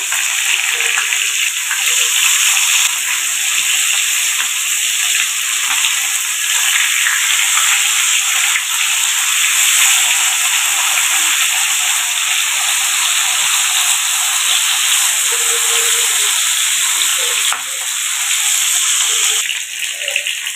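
Chicken pieces for an Arabian-style mandi frying in a pan, a steady, close, broadband sizzle and hiss that runs unbroken throughout with only small dips in level.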